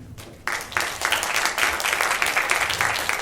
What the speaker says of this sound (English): Give them the biggest applause for them